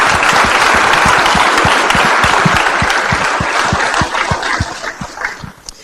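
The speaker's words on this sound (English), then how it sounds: "let's give the panelists a round of applause" A conference audience applauds panelists after a fintech morning session, dense clapping filling the room loud and steady before thinning out and fading toward the end.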